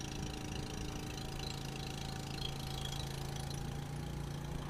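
A motor boat engine drones steadily during a ride on the Narmada river at Omkareshwar, a continuous low mid-pitched hum with faint knocking, moderately quiet and uninterrupted.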